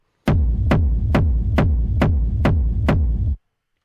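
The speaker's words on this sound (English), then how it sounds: "It's a very big kick." A big electronic kick drum sample, dry and without effects, thumps seven times in an even, steady pulse, each hit starting with a sharp click and decaying into deep boom, then stopping cleanly.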